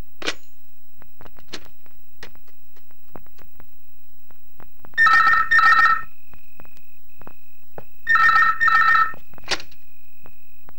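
A telephone rings loudly in two bursts of rapid electronic trilling separated by a few seconds of near silence, with faint clicks and taps in between.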